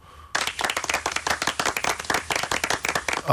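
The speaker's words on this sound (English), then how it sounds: "I'm going to take a round of applause, Marty, whether you like it or not." A studio audience breaks into a round of applause after a short quiet pause, the quick, crisp claps continuing steadily and fairly close for several seconds.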